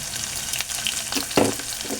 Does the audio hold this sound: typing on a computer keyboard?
no